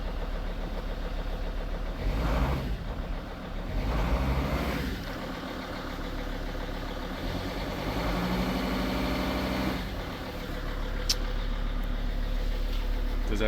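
A 2006 Mercedes Sprinter 2500 diesel idles steadily after a cold start, a constant low engine rumble running throughout while someone talks over it.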